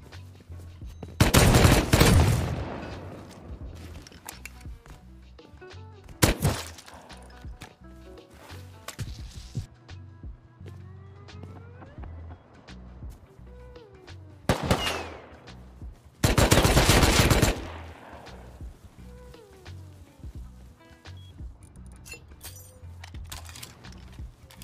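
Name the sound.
turret gunfire in Rust video game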